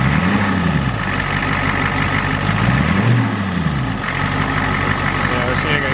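A Ford F250 diesel truck engine idles steadily close by, a continuous low rumble with slight rises and dips in pitch throughout, while a voice speaks over it.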